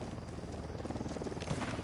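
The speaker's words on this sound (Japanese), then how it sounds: "あヘリの音。" A helicopter's rotor thumps in a rapid, steady pulse, fairly quiet and distant, with no talking over it, in the game Ghost Recon Wildlands.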